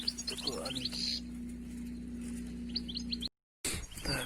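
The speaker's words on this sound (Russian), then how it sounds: "Так, очередной щегольчик у нас." A caught wild goldfinch gives bright, brief chirps in scattered clusters over a steady low hum, with a short silent gap near the end.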